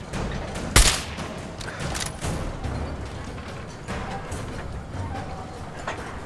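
Gunfire in Fallout 4, a sharp loud shot near the start followed by scattered softer shots and rumbling combat noise over a steady game background.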